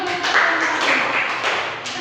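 A class of students claps after a group presentation in a teaching simulation, a short burst of scattered hand clapping with a few sharper claps standing out, close and moderately loud.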